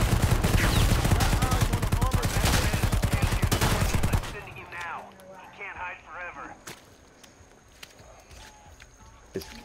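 Dense, rapid video game gunfire rattles loudly for about four seconds, then breaks off into quieter scattered shots, impacts and clatter, with voices talking over it.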